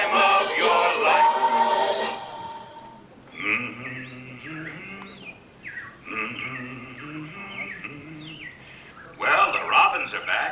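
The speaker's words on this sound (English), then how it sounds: "Well, the robins are back. That's a sure sign of spring." Recorded robin chirps play as a show effect in Disney's Carousel of Progress at Magic Kingdom, bright repeated bird calls in clear bursts, alternating with a voice speaking.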